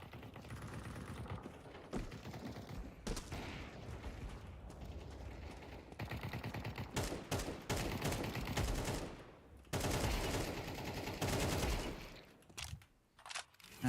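Rapid automatic gunfire in a video game shooter crackles in fast bursts and sustained strings, moderately loud with mechanical clatter, broken by short gaps and a final scattered flurry.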